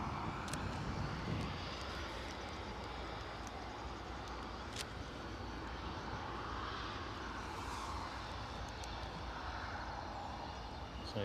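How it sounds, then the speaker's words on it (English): A British Airways Airbus A320neo inbound to Edinburgh Airport, its engine roar loud and continuous across the whole stretch, swelling slightly as it nears. "So British Airways inbound with an A320neo."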